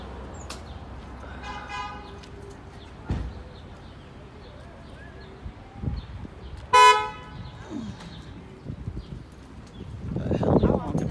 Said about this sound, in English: The hell you honking for?